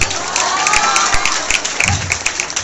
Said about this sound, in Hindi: भैया का आशीर्वाद मिला ताली के द्वारा